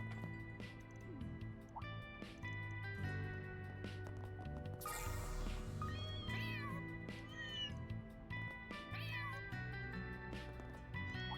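A cat in the video game Trails Through Daybreak 2 meows several times over steady background game music, its short, clear cries rising above the score through the middle of the scene.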